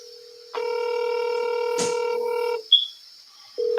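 Phone keypad tones sound as a number is dialed, with a sustained tone running for about two seconds, a brief click, then a short chirp and another tone starting, all close and clear with no talking.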